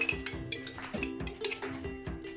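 Pasta salad with mayonnaise being stirred in a bowl, a quick repeated rhythm of soft clinks and scrapes from a utensil against the bowl, close and fairly quiet.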